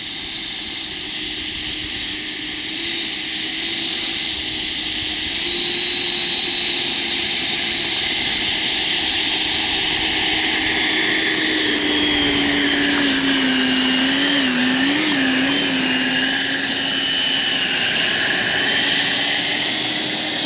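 A Taft Hobby Viper Jet V3 90mm electric ducted-fan model jet taxis on a grass runway, its loud, steady high-pitched whine shifting slightly in pitch as it rolls close by for about twenty seconds.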